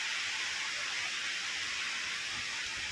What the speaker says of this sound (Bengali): এরকম হালকা তেলে এগুলো ভেজে নিতে হবে